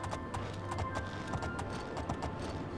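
A unicorn's hooves clip-clop at a steady trotting rhythm in the fantasy game Oblivion, faint and continuous with no talking.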